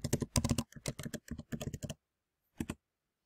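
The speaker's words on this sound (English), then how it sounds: "Type your keywords in the search window and hit Enter." Computer keyboard typing: quick bursts of clicking keystrokes close to the mic, a pause of silence, then a final short clatter of keys like pressing Enter, no talk.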